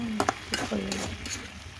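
Chicken coated in masala sizzles in a hot pan while a spoon stirs and scrapes it, with a few sharp stirring knocks over a steady close frying hiss.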